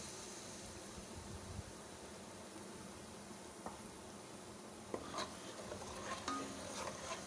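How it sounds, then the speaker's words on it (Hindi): Yogurt and spices fry together for a beef kofta curry, a faint steady sizzle with occasional soft scrapes and pan knocks from stirring, growing busier toward the end. "और अब हम इसको बहुत अच्छी तरह मसाले को भून लेंगे"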